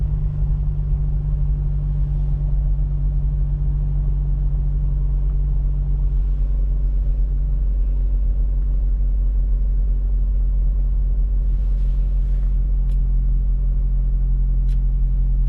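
An Acura RSX Type S DC5 with a Type R garage build idles with a steady, deep, loud engine rumble that holds evenly throughout, with no talking.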